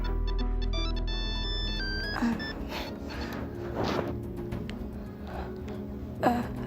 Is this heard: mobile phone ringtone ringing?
yes